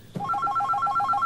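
A landline telephone rings with a rapid electronic trill in repeated bursts, steady and fairly close, with no one speaking over it.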